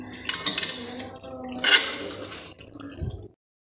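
Chicken and fried onions being stirred together in a pan, giving wet scraping and squishing with metallic clinks of a spoon against the pan, fairly close and steady before falling silent, with no talking.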